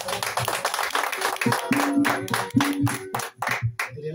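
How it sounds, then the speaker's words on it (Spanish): A small group at a birthday celebration with mariachi claps rapidly and unevenly. Close applause crackles for about four seconds, with scattered voices calling out among the claps. "¡Aplauso!"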